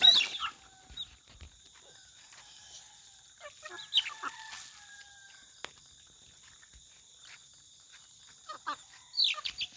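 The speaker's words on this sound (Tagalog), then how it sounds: "Magpatoka muna ako sa mga manok guys." Backyard chickens, including a hen with chicks, cluck and call intermittently at moderate distance during feeding with rice, with scattered rustling between calls and no talk.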